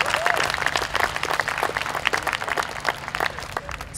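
Audience applause at a school district summer music festival concert, steady dense clapping from a sizable crowd filling the space throughout, loud and continuous with no break.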